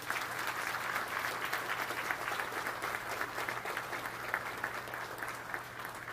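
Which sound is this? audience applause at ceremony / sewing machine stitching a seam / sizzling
audience applause at ceremony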